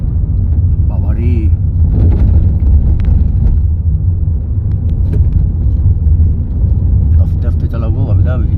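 A car driving slowly along a winding mountain road near Darjeeling, its steady low engine rumble and road noise continuous throughout, with people talking over it inside the cabin.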